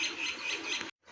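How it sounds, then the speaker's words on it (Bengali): A male pigeon gives a short, close call lasting about a second, then the sound cuts off abruptly, with no talking. "এই যే এটা হচ্ছে নর কবুতর"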